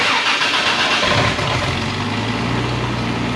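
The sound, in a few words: car engine starting, no muffler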